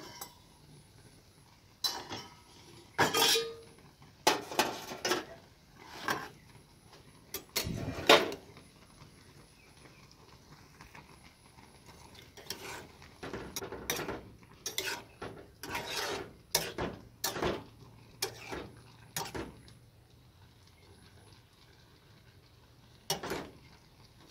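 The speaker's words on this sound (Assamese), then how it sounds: "এতিয়া ঢাকনি গুচাই মই চব্জিখিনি চাওঁ।" A metal pot lid lifted off and clattering on a pot of boiling winter melon (ash gourd) in a home kitchen, with sharp intermittent clinks and scrapes of metal cookware across the stretch.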